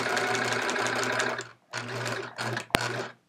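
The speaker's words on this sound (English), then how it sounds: "This last little bit the machine can pull by itself." A sewing machine fitted with a walking foot stitches a chevron quilt in steady whirring bursts, running loud and close with two short pauses between runs and a sharp click near the end.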